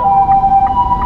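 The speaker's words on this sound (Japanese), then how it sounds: "救急車を通せ" An ambulance siren wails loud and close to a car on a road, its steady tone heard throughout with no talk over it.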